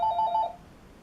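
A telephone rings once indoors with a short electronic warbling trill of about half a second, fairly clear, then fades into quiet room tone.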